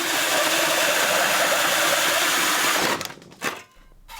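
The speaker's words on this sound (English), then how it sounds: "I can use the gasket as a template and mark out where the centre of the hole is, and then I can get it drilled out." A hole saw drills through a cyclone separator lid, a loud, steady grinding whine that runs about three seconds, then cuts off into a few short bursts and quiet.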